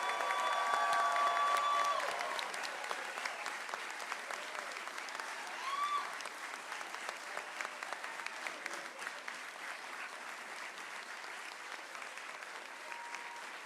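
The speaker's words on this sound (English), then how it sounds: "I'd like to ask all of you to give one more round of applause to Class" Sustained applause from a large crowd at a commencement ceremony for a graduating class, loudest at the start and then settling into a long, even wash with faint cheers and murmured voices.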